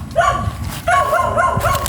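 A dog barks outdoors, close and loud: a sharp yelp, a short pause, then a quick run of four or five yipping barks.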